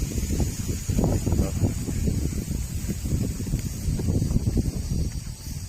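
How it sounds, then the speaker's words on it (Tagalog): Strong wind rumbles steadily against the microphone in low, rough gusts at a Mount Banahaw viewpoint in Tayabas, Quezon, loud and close, with a faint hiss above. "Lakas ng hangin."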